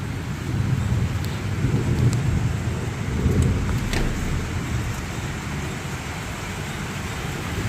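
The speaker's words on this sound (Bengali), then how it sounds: "আর যা জোরে জোরে বিদ্যুৎ চমকাচ্ছে আর মেঘ ডাকছে না" A heavy thunderstorm with steady, loud rain pouring down outside and low rolling rumbles of thunder swelling beneath the downpour, with no voices.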